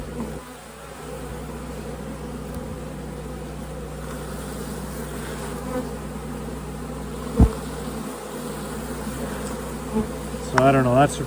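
Honeybees buzzing densely around an open hive during a varroa mite check, a continuous close hum with a few louder bee passes near the end.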